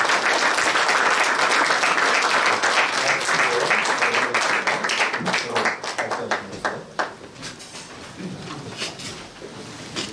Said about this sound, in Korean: 박수로 함께 격려해 주시기 바랍니다